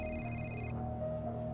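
A telephone rings in the Spider-Man video game, a bright electronic trill that sounds for under a second and then cuts off, leaving a low steady hum of background ambience.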